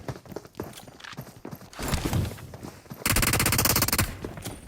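Gunfire in PUBG Mobile on the Erangel map starts with scattered shots and then turns into a loud, sustained rapid-fire burst. Faint talk and movement sounds run underneath.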